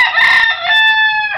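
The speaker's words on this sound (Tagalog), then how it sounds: "napakatapang ng manok na to." A young fighting rooster, about six months old, gives one loud, close crow lasting just over a second, rising then holding a strained, ringing tone.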